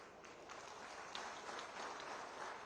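Audience applause at a political rally in Sarkaghat, Himachal Pradesh, heard as a steady, moderately distant wash of clapping with no voices over it.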